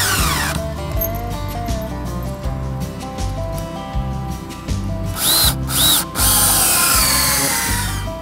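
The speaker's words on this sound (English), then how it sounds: "I'm going to put some screw fasteners here, which hopefully will countersink themselves below the surface" A power drill drives screw fasteners into old log cabin wood in repeated bursts, its motor revving up and slowing down loud and close, with brief high whines and gaps between runs.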